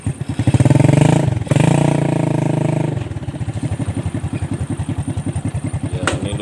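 A motorized becak with a hand-operated gear shift revs loudly up close, then drops to a steady, rhythmic chugging after a gear change, with a brief sharp clatter near the end.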